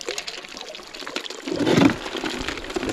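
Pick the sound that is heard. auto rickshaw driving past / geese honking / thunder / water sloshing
water sloshing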